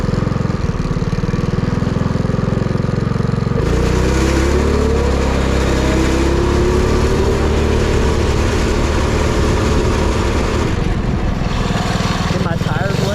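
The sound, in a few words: Predator 212cc engine vehicle launching and revving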